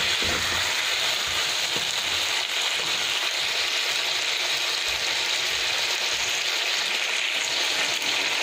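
A ripe tomato fries in a pan of oil and roast masala for a spicy chicken curry, giving a steady, close, continuous sizzling hiss with faint clatter underneath and no talk.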